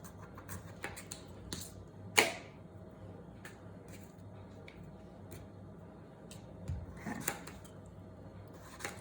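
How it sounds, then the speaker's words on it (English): A knife slicing through a tomato, likely on a cutting board, for guacamole: soft, faint scraping and light taps, with one sharper cut near the start and a few more toward the end. "So now we're gonna cut this tomato."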